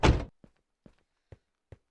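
A car door of a Mercedes closing with a dull thud, followed by several soft, evenly spaced knocks in otherwise quiet surroundings.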